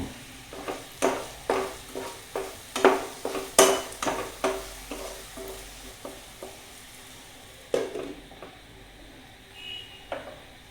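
Okra stir-frying in a pan with onions for a vendakka thoran, a quiet steady sizzle broken by a series of sharp spatula scrapes and knocks against the pan, rhythmic at first, then sparser.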